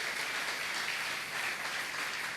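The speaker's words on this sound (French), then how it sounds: "Acclamons pour la parole." A church congregation at a Wednesday worship service applauds together, a dense, sustained wash of clapping that holds steady and fairly loud throughout, with no voices rising above it.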